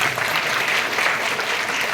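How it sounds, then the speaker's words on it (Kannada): Dense, loud applause from the audience at a private school teachers' award ceremony in Sandur, an even, continuous clapping wash without pauses. "ಒಂದು ಜೋರಾದ ಚಪ್ಪಾಳೆ ಕೇಳಿ"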